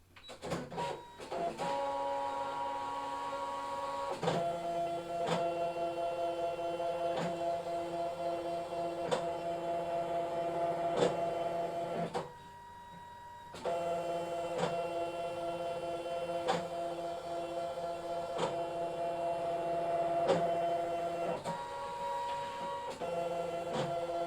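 A craft cutting machine cutting card whirs steadily with humming motor tones and regular ticking shifts, pausing briefly midway before carrying on, close and continuous.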